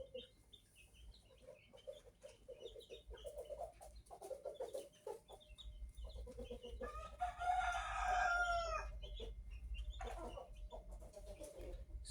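Chickens cluck and chatter near a farm pen while a rooster lets out one long crow midway, close and fairly clear over a low background hum, with no voices.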